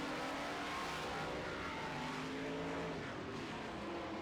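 Modified race cars lapping a track during a heat race, a continuous distant engine drone with faint revving, heard from afar with no voices.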